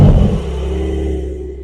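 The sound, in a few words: Porsche 992 Carrera engine starting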